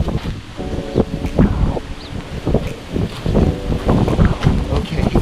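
Gusty wind buffets a beach on a windy day during Semana Santa in Mexico, roaring and rustling in uneven surges near the microphone, with voices faintly mixed in.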